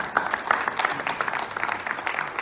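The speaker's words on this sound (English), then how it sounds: "A round of applause, please." Audience applause from a crowd at a townhall meeting in a theatre hall, steady dense clapping that goes on for a couple of seconds with no voices over it.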